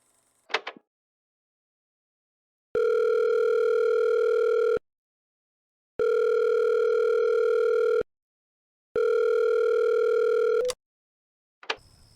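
A phone rings out unanswered on a call in a horror fiction drama: three long, steady ringback tones with silent gaps between them, clear and alone, framed by brief clicks at the start and end.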